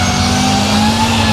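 Wheeled military armoured vehicle with a petrol Rolls-Royce B60 engine, at a wartime show event, giving a steady loud engine drone that holds close and even throughout, with no talk.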